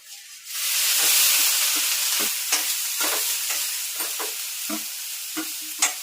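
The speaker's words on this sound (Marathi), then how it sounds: "आता जो आहे तो मी गाजराचा हलवा बनवत" Grated carrot halwa cooks in a pan, a loud steady sizzle with repeated scraping stir strokes of a spatula at an uneven rhythm, close and alone without talk.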